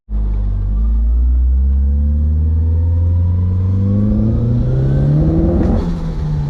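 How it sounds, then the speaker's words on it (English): Nissan 240SX with a CA18DET engine pulling hard on a test drive, a loud close rumbling engine note climbing steadily in pitch as it accelerates, with no talking. "let's take this thing for a test drive"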